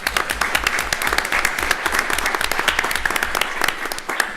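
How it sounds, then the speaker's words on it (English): An audience at an executive panel on innovation applauds with dense, steady clapping that stays loud and even throughout, with a few voices faintly underneath. "So if we can give her a round of applause in her absence."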